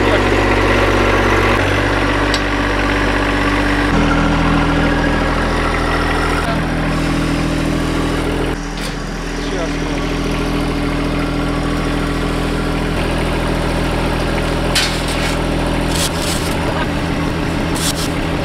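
A John Deere garden tractor engine idles steadily and close by for the whole stretch, with a brief dip in the middle and a faster, rougher patter near the end.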